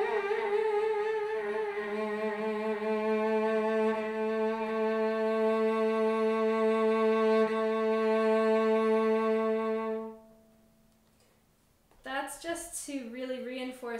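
A cello sustains one bowed note with fingertip vibrato for about ten seconds, rich and steady with a gentle waver, then stops and a voice starts talking.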